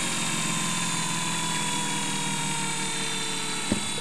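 A rotary spark gap rotor on a dual-break prototype spins at 2,000 RPM, giving a steady, close whirring drone with a sharp tonal whine and one brief click near the end.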